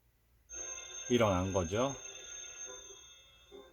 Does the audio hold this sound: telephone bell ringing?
yes